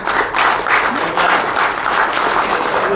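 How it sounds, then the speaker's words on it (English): Loud, full applause fills a leadership event hall, many hands clapping in a thick continuous wash that swells slightly and holds steady throughout. "Give a big round of applause."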